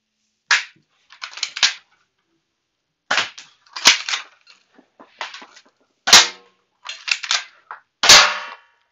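Sharp, cracking gunshots fired in a video game, about ten distinct loud shots spaced irregularly with short silent gaps between them, close and dry against near silence.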